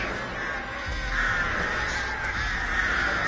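Crows cawing in a video game, a steady wash of overlapping calls held under continuous ambient noise with no talk.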